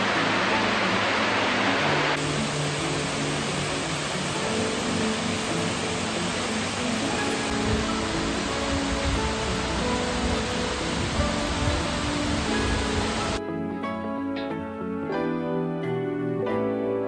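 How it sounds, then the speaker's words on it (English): A rushing waterfall on a hiking trail roars as a steady, loud broadband wash, then drops away near the end as music-like tones take over. "Look at this amazing waterfall."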